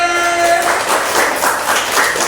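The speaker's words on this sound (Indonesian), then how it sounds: "Oke, tepuk tangannya." A classroom claps in a brief burst of applause, a fairly loud, steady patter of many hands lasting a couple of seconds.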